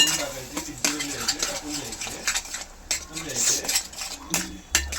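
Egg bhurji frying in a pan, dominated by repeated close clinks and scrapes of a spatula against the metal pan, with a faint sizzle beneath and some background voice.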